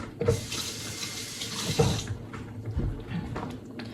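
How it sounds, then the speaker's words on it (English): A kitchen faucet runs as hands are washed under it, a close, steady water rush for about two seconds before the flow changes and splashes more softly. "Hold on, let me wash my hand."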